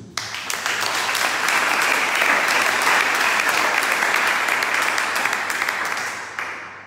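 A church congregation applauds together in sustained, dense clapping that swells and holds steady for several seconds before thinning slightly at the end, with faint voices mixed underneath.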